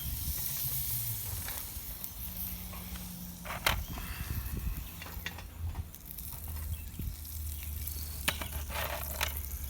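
Charbroiled oysters sizzle on a Weber Smokey Joe charcoal grill, a steady crackling hiss with occasional sharper pops and scraping, close and continuous, with no talking.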